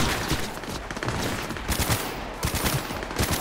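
Rapid bursts of automatic gunfire in Cyberpunk 2077, loud and continuous with short gaps between volleys.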